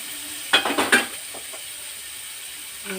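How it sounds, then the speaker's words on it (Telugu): Chopped carrot and tomato frying in a pan, a few quick stirring scrapes and sizzling bursts close up, then a quiet low sizzle. "దీన్ని కాస్త బాగా ఫ్రై చేద్దాం"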